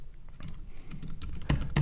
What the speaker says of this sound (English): that way I can just type in my